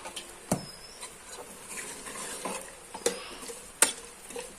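Potato, peas and tomato are stirred in a pan over a soft sizzle, with intermittent scraping and a few sharp ladle knocks against the pan spaced across the stretch, near and moderately quiet.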